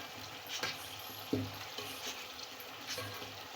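Minced keema frying over high heat in a pot, giving a steady low sizzle with a few soft scraping stirs and small clinks, with no voices.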